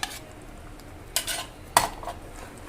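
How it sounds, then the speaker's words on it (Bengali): Fried chicken pieces are stirred into a butter chicken gravy in a pot: a few separate scrapes and clanks of a spoon against metal, with a faint low sizzle under them and quiet pauses between. No one speaks. "এবার এই গ্রেভিতে আমরা ভেজে রাখা চিকেনগুলো মিশিয়ে নিচ্ছি।"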